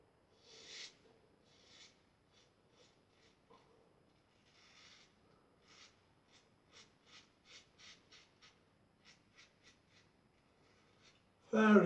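A safety razor makes an against-the-grain pass on the neck: a quiet, close run of short scraping strokes, some spaced and some in quick succession, ending with a sudden louder knock.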